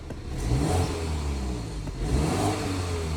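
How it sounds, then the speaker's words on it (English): A 2024 BMW X3 xDrive30i's 2.0-litre turbo four-cylinder engine revs up twice in quick succession, a deep, throaty rise and fall with a whirring turbo edge, close and loud. "let's give it a few revs"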